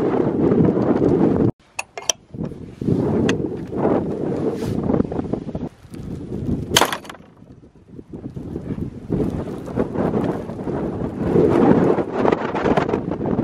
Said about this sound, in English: It's blowing a gale out there